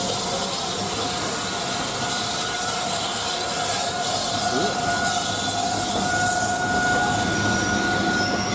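A train rumbles at a station platform with a steady loud roll, faint wheel squeal and hiss, while a station announcement carries over it.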